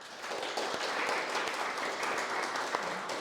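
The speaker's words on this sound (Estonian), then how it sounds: "Iiris, kellele aplaus" Applause for a technical helper at an Estonian science-fiction story competition closing event: a steady, dense clapping from a modest indoor audience, even in level throughout with no talk over it.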